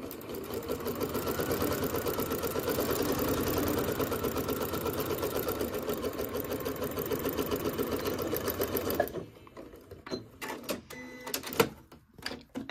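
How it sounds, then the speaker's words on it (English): A sewing machine stitches a quilt block for a disappearing nine-patch, running steadily and close for about nine seconds, including a back stitch, then stopping into scattered handling clicks and small knocks. "start stitching and do that back stitch"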